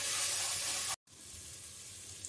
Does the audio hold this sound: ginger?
yes